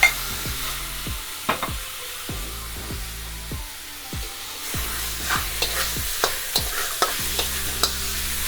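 Steak searing in a pan with teriyaki sauce for a hibachi-style home dinner: a constant loud sizzle punctuated by a series of sharp spatula clacks and scrapes, close up and without voices.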